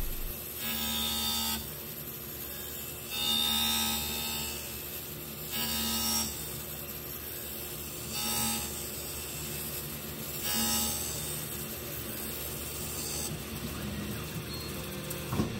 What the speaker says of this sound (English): the lens is actually being cut into the shape of the frame